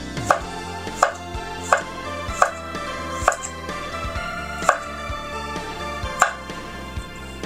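A knife slices food at a slant on a cutting board, giving about a dozen crisp, evenly spaced chops close by over faint background music.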